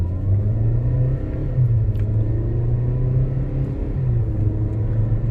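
A red Kia K3 Noblesse engine revs hard during a used-car road test and climbs in pitch, dips briefly, then surges again, a steady loud mechanical roar close by with no voices.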